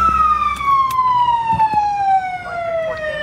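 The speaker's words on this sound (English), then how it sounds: "It's got a siren on." A police car siren wails steadily with a slowly falling tone, loud and close, with faint background noises and no clear speech.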